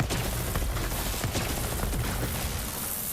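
Dense, continuous gunfire from a held trigger in Borderlands 3, a steady rattling burst with sharp crackling shots running through the whole stretch at close range, with no talk over it.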